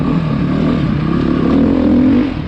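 A 2020 BETA motorcycle engine revs hard on a demo ride, a loud continuous close roar that climbs steadily in pitch over a couple of seconds, with no talking.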